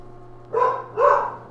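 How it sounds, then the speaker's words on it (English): A Hungarian Vizsla lets out two loud barks in quick succession, close to the microphone, over a low steady background hum. "Oh, the beauty of live YouTube with dogs."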